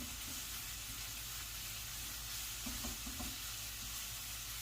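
Food browning in a hot pan for creamy spaghetti gives a steady, low sizzle and hiss that holds evenly throughout, with a few faint clicks of movement underneath and no talking.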